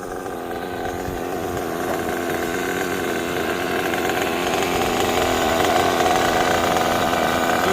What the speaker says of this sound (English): Now that's how you tune a nitro engine.